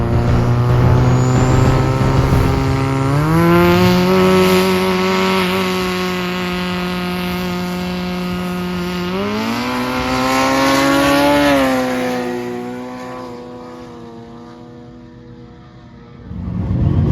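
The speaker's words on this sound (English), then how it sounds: "so me and Woody had our race." Drag cars in a no-prep race roar down a track, loud engine tones climbing through gear changes, holding a high drone, then fading into the distance before another engine swells at the end.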